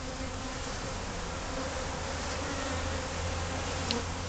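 Honey bees hum steadily around a hive box holding a caged queen, a dense, continuous buzz close by with no voices.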